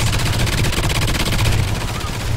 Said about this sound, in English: I can't hear you over the sentry